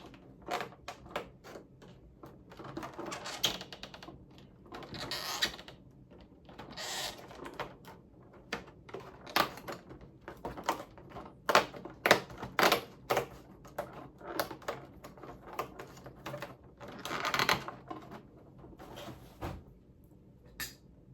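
Small cardboard compartment of a beauty advent calendar being prised open, a run of close, crisp tapping, clicking and paper-tearing bursts at an irregular pace with no talk.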